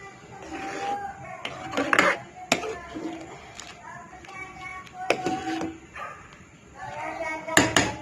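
Hot and sour soup is stirred in a pot with a spoon, giving intermittent clinks and scrapes against the metal at close range, with sparse kitchen clatter and a voice at times.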